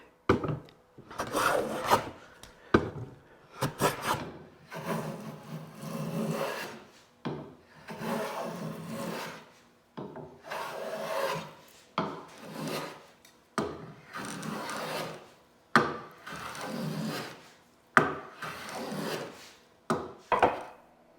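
Hand plane taking repeated rasping strokes across a wooden cutting board being flattened, each pass a woody scrape of a second or two, steady and close, with short pauses between strokes.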